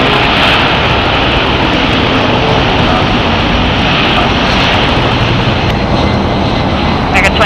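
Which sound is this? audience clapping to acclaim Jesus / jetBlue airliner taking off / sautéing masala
jetBlue airliner taking off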